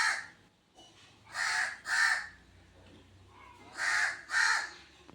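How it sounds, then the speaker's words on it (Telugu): A crow near a farm field caws loudly and close by in two bursts of paired harsh calls, with quiet pauses between them. "పెద్దగా కాకి అరుస్తూ ఉంది కదా"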